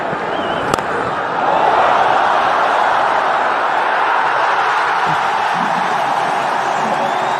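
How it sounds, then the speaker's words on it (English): Cricket stadium crowd roaring and cheering after a big hit, a broad sustained swell that rises after a sharp crack and holds steady, distant and dense. "The crowd on their feet."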